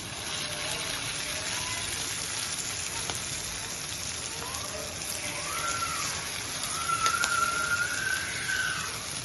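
Potato pakora batter dropped spoon by spoon into hot oil in a pan, giving a steady broadband hiss and sizzle throughout with brief brighter crackles near the end.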